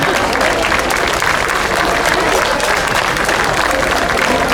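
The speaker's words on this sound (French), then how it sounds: "Vous pouvez les applaudir très très fort." Steady, dense applause from a crowd honoring parachutists at a European hot-air balloon cup event, continuous and fairly loud throughout with no pauses.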